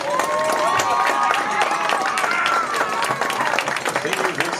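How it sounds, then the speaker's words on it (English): A crowd in a high school gym or stadium applauds the athletes, with loud, continuous clapping and shouted cheers and voices mixed in throughout. "let's give them a huge round of applause"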